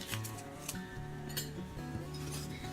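Dry bath bomb ingredients being stirred together in a bowl, with light clinks and scrapes of a utensil against the bowl repeating in an uneven rhythm, quiet and close.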